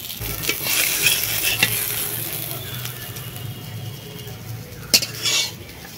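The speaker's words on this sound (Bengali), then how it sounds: "খুব সাবধানে আস্তে আস্তে এই কোপ্তার আকারে ভেজে নেব" Besan kofta balls fry in hot oil in a pan, giving a steady close sizzle with occasional scrapes and clinks of a utensil against the pan, and no talk.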